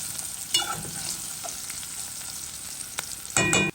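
Spices such as clove powder and thyme frying in a pot for a Réunion rougail, with a steady low sizzle, faint scraping stirs and a louder burst of sizzling near the end.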